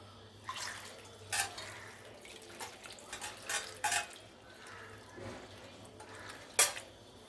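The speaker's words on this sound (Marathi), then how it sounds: "त्यामध्येच आपल्याला पोहे धुवायचे आहेत" Intermittent splashes and sloshing of water as flattened rice is rinsed in a strainer, with irregular bursts and light clinks of a metal pan, close by.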